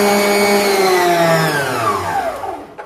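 A kitchen mixer robot whirs steadily while beating crème brûlée batter, a loud continuous motor hum whose pitch slowly falls near the end, with no voices.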